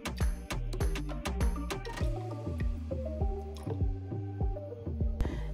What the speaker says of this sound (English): Here's me pouring that dye right on in.